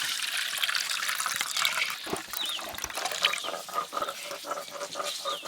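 Squeezed coconut milk strained and poured in a home kitchen, a steady splashing trickle of liquid running continuously for a few seconds, close and moderately loud with no talk.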